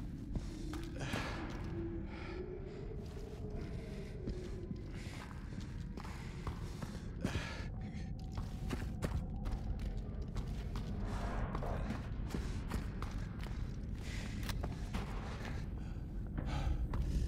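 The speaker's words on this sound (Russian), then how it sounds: "Кто-то где-то прошелся. Какое-то дыхание, скрежет." Footsteps, heavy breathing and scraping in the video game Silent Hill 2 Remake. The sounds are muffled and distant, with irregular thuds and scrapes under a steady low rumble of ambience and no talk.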